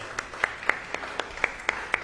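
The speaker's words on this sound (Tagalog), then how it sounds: "The best pong palakpak ulit kay Jesus." Churchgoers clap after a closing prayer at a Sunday worship service, a steady rhythmic beat of hand claps at roughly four per second over a soft background murmur.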